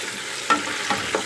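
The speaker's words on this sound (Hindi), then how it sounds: "ये अब हम इसमें साथ डाल के इसको अच्छे से करेंगे फ्राई" Calf trotters frying in oil with onion, a steady low sizzle with a few brief stirring scrapes over roughly a second, close and moderately quiet, with no talking.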